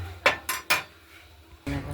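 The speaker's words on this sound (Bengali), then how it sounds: "ধনে পাতাগুলো কুচোনোর কাজ চলছে" A knife chops fresh coriander leaves on a board for a rohu fish curry: three quick sharp strikes close together, a short pause, then a heavier knock.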